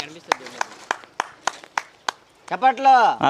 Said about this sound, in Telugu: చప్పట్లు అండి, చప్పట్లు కొట్టండి